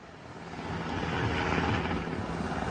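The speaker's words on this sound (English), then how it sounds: "Submitted to us shows a Mexican army helicopter flying over a resort where Edmontonians are sheltering in place." A Mexican army helicopter flies over a beach resort, producing a steady, broad engine and rotor roar that swells gradually as it passes, with no speech.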